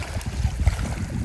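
Choppy waves churning on a wild lake in rainy weather, an uneven low rushing and lapping of water with irregular surges, close and moderately loud, no talking.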